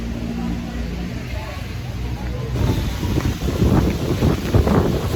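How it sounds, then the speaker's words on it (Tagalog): Strong gusty wind buffets the microphone with loud rumbling roars that intensify halfway through, and voices can be heard beneath it. "lakas ng hangin"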